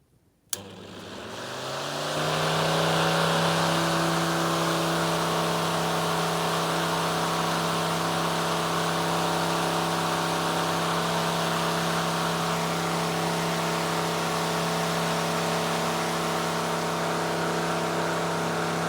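An electric fan starts up and blows air inside a greenhouse, a sudden click followed by a rising whir that settles into a loud, steady hum and rush of air for the rest of the clip.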